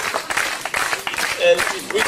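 A crowd at an outdoor show at the Polynesian Cultural Center claps along in loose rhythm, many hands at mid distance, with cheers and a voice mixed in.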